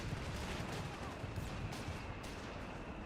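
Base howitzer artillery fire in a tank battle video game, a steady wash of rumbling explosions and distant booms filling the clip with no clear pauses.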